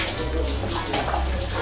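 Water from a home shower pours in a steady, close hiss, a dense unbroken rush that fills the whole short moment.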